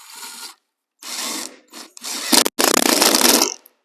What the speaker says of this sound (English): they literally go right into the bottom of the truss with an impact tool and a 5/16